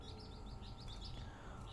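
Small pleci (white-eye) songbird giving a run of high, bright chirps in a quick repeated pattern, heard near and fairly clear over a steady low background rumble.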